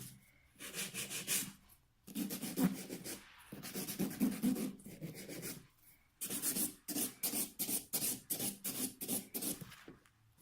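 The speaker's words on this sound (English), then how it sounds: "Buffing it to see if it's hard everywhere." A buffer is rubbed briskly along the sides of a hardened polygel nail, giving close, dry scratchy strokes in quick bursts separated by short pauses.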